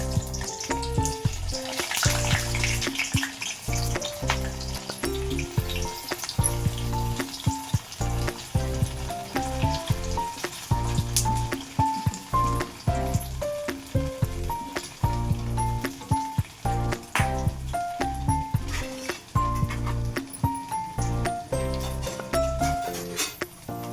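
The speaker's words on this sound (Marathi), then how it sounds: "आता आपण बट्ट्या तळूया।" Batti dough balls fry in hot oil with a loud, steady sizzle and bubbling that continues throughout, punctuated by occasional stirring and scraping.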